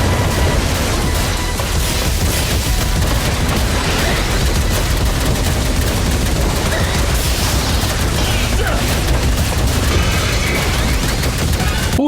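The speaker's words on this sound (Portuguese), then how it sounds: "É a música desse jogo." Dense, continuous gunfire volleys and booms from a pixel-art video game play loudly throughout, layered with game music in a steady wall of sound with no talking.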